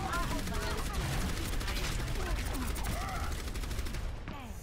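Gunfire in the video game Overwatch, rapid continuous weapon fire rattling under busy game effects and a player's voice, steady and loud throughout.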